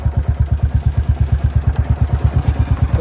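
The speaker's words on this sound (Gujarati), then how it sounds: "સિંગલ બાઇક નીકળે છે" A single motorcycle engine thuds in a fast, even rhythm of low pulses close by on a rough village road with a large pothole, steady and loud for the whole stretch with no voices.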